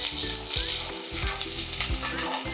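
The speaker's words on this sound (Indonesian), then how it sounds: "Jadi ini saya tumis dulu bawang merahnya sekarang." Shallots sauté in a hot pan with a steady loud sizzle and crackle, broken by scraping stirs, close up and with no talk.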